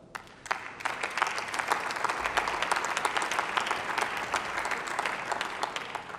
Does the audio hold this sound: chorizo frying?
no